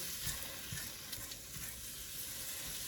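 Sausage browns in a pan with a steady, close crackling sizzle and frying hiss, with occasional stirring scrapes and no voices.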